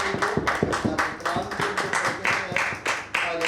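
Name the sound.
congregation clapping hands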